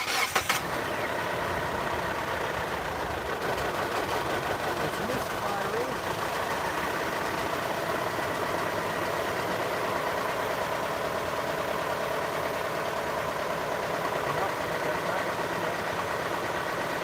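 2005 Hyundai Sonata 2.4L engine, under valve cover gasket work, cranks and catches at the start, then idles in a steady, close, even hum to the end.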